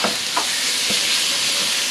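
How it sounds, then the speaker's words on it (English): Lobster pieces dropped into a pot of cooked onions sizzle steadily while a spoon stirs, with a few scraping strokes over continuous frying hiss. "We're going to put our delicious lobster in here."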